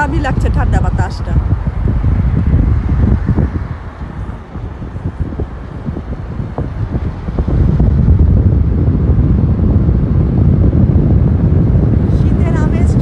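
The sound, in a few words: cold winter wind through open car window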